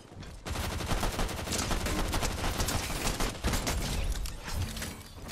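Dense, continuous video-game gunfire with rapid automatic bursts, loud and close for the whole stretch, with no talk over it.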